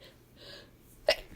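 A single sharp sneeze bursts out near the end after a quiet lead-in of faint breathy intakes, close and sudden, from a woman apologizing for sneezing repeatedly.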